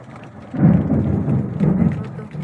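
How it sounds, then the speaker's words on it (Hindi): Low, rolling rumble of thunder swelling and fading twice over a steady wash of rain, fairly loud with no voices. "मेरी मैया बहुत बिजली कड़क रही है।"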